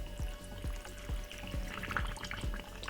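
Water is poured into a small blender for a healthy fat cutter juice, a steady splashing trickle with regular faint knocks beneath it, close and moderately loud.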